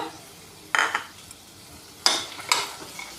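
Sliced onions and cashew nuts cook in a pan for a paneer curry, with a soft background sizzle. Two or three sharp scraping stirs break through, and then a couple of quick clinks of a spoon on the pan.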